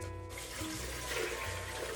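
Water runs into a pot for soup along with white pepper and salt, a steady bright splashing flow heard up close and alone for a couple of seconds.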